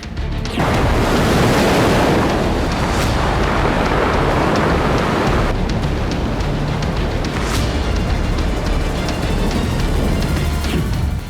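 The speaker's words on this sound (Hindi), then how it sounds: "उफनती लहरों के बीच खामोशी से बढ़ते सैनिक।" Surging waves on the Black Sea crash and roar in a loud, continuous wash of surf, with heavy breaking bursts rising and falling over about eleven seconds and no voices.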